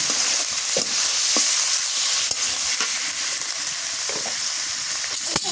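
Meat for khichuri fries with a loud, constant sizzle close by, broken by occasional clacks and scrapes as it is stirred in the pan.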